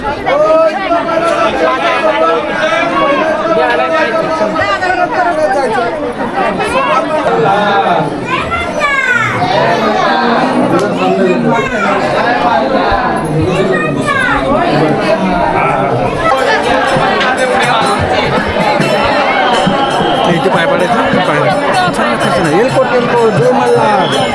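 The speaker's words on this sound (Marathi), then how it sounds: "बघा किती घामपूरला भरपूर गर्दी आहे बघा" A large crowd of pilgrims at a temple in Maharashtra, a dense steady hubbub of many voices with children chattering and calling nearby, loud and continuous throughout.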